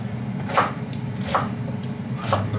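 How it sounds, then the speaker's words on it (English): A knife cutting celeriac into chunks on a board, three sharp chops spaced under a second apart against a quiet kitchen background. "So these I'm just going to cut into slightly bigger pieces."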